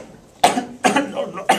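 Several sharp coughs from a patient during an emergency medical assessment, three distinct bursts spaced about half a second apart, close and fairly loud with no talk over them.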